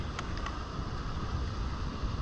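Strong wind from a low pressure area roars steadily across the microphone at sea, a dense broadband rush with a few faint higher tones early on.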